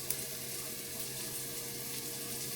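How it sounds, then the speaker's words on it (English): Onions frying and caramelizing in a pan on a home stove, a steady close-up sizzle with a constant hiss and faint crackle, no voices. "we've got these onions getting to a point now where you can already see the caramelization happening already"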